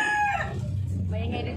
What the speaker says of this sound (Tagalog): Maingay dito mga kamigo-kamiga sa mga manok